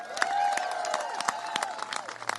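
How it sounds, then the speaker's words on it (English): An audience applauds at a Texas Democrats news conference on the redistricting fight in Boston, with scattered hand claps and crowd noise filling the room, moderately loud and continuous for the whole stretch. "So give yourselves a big round of applause."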